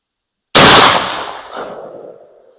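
A shotgun fires a single Lyman .705 Foster slug with an FT12 tail wad at an outdoor range, one loud sharp blast followed by a fading echo, with no talk.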